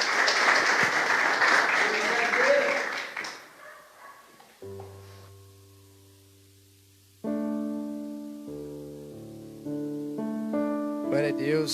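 A church congregation claps and cheers for a few seconds, a busy burst of hands that quickly fades out, followed by sustained keyboard chords ringing alone.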